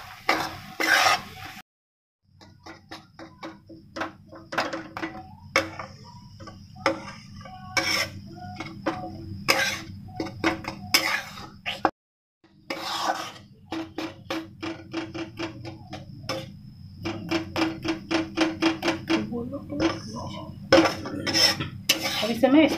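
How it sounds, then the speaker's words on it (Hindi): Besan (gram flour) is stirred and roasted in a pan for halwa, giving steady, close metallic scraping and clinking of a spoon against the pan in continuous rhythmic strokes, broken by two brief pauses. "अब इसे मैं इस तरह से मिला रही हूँ, ब्राउन होने तक भून लूंगी इसे।"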